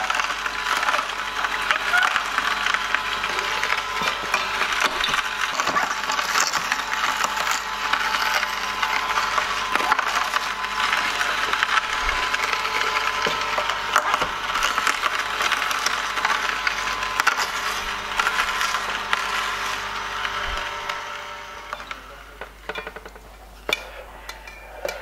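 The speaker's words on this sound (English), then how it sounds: "I was juicing red beets and, you know, my juicer is squeaking really loud" An Omega Sana juicer crushing red beets, giving a loud, continuous grinding squeal with splintering, creaking texture that runs steadily for about twenty seconds before fading out near the end.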